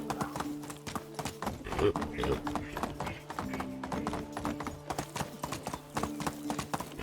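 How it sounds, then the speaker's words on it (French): Horse hooves clip-clop steadily in the medieval video game Medieval Dynasty while riding, a rhythmic run of close taps with game music underneath. "J'y vais à cheval."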